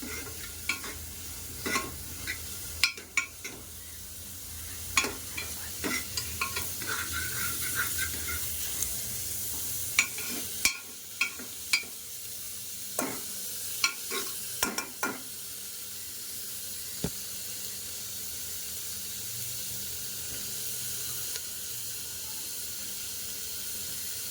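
Onion for plain sambar frying in a pan until reddish, a soft continuous sizzle and hiss with scattered spatula taps and scrapes at irregular intervals, fairly quiet and without talk.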